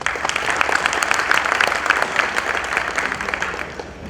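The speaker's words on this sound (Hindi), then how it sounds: "तालियां प्लीज।" Audience applause at a women's wing and labour registration awareness program, a dense run of clapping that holds steady for several seconds and then fades out.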